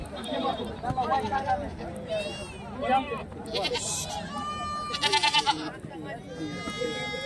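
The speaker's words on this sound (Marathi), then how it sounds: "पूर्ण शेळ्यांचा बाजार असतो" Several goats bleat, some near and loud, others farther off, amid a busy outdoor crowd with people talking at the Nathapur goat and sheep market.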